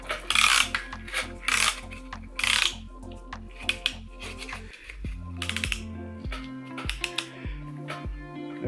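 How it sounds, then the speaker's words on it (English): A piston ring compressor tightens around a piston at an engine block during assembly, giving a run of rhythmic ratcheting clicks and rasping scrapes under steady background music. "So I'll put the ring compressor in."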